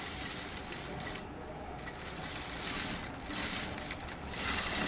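Sewing machine running top stitching in a round on black cloth, a faint, fast mechanical clatter close by with small swells in loudness and no talk.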